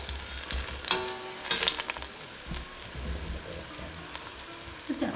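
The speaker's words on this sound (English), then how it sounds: "But look at the chilies now, they just fry." Chilies fry in a pan as the base of a South African crab curry, giving a steady crackling sizzle with stirring scrapes and occasional louder pops, close by, with a little faint talk in the background.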